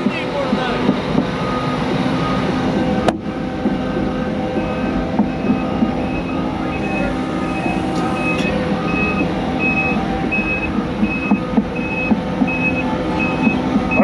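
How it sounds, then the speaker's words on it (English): Reversing beeps from a Hyundai 45-ton haul truck: a steady series of evenly spaced electronic tones, moderately distant, over a loud, continuous diesel engine rumble with a sharp clank early on. "45-ton haul truck"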